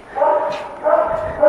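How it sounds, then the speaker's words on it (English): Dogs and puppies in cages at an animal shelter bark and yip in two loud bursts, close by, with whimpering between them. "back here is where the doggies and the puppies are. It's fixing to get loud"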